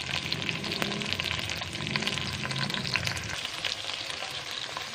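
Okra (bhindi) frying in a pan, a steady dense sizzle with crackling pops throughout, moderately loud and close, with no talk.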